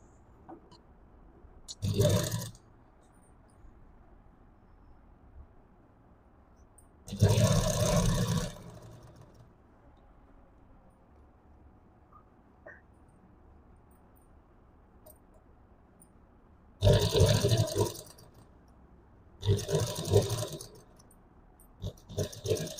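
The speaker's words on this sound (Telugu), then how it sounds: "ఈ నెక్ ని మనం ఎక్కడైతే కుట్టు వేసామో సేమ్ అదే కుట్టు మీద ఒకసారి మొత్తం రౌండ్ కుట్టు వేసుకోవాలి" A sewing machine stitching around the neck of a child's blouse runs in several short bursts of whirring, each a second or two long, with quiet handling between them, close by.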